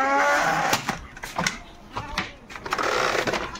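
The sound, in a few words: goats on a goat farm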